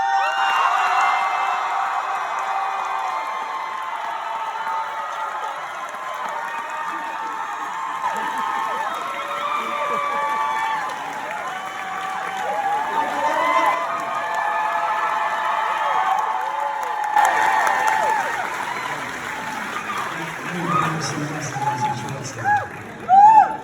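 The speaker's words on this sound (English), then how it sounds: "Give me a huge round of applause." Large convention crowd at a Lord of the Rings panel at Tampa Bay Comic Con cheering and clapping steadily, with shouts rising near the end and a few loud bursts at the close.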